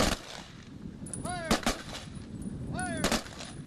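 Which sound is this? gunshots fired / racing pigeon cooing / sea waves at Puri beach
gunshots fired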